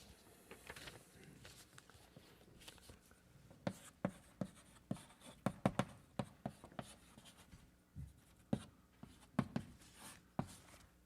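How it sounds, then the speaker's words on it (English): Chalk tapping and scraping on a blackboard as a lecturer writes out a mathematical theorem, with sharp irregular strokes and clicks spread through the clip, fairly close and without talk. "So let me write the theorem"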